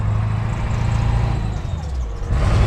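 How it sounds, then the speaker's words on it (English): A car passes close by with a broad, rumbling roar that swells and fades, then another engine sound builds at the end. "A lot of noise, let the car pass."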